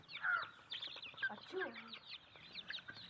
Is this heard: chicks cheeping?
yes